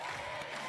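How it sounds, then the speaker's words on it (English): Local crowd at a 3x3 basketball World Cup Qualifier game making noise, a steady broad wash of cheering and applause-like roar filling the venue for a brief moment. "the local crowd starts to make some noise"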